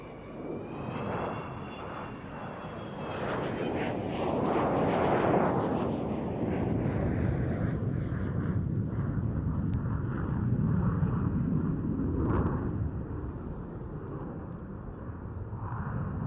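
A 55-year-old bomber roars overhead at an airshow, its engines swelling into a loud, sustained rumble that peaks and then slowly fades as it passes, heard alone without voices.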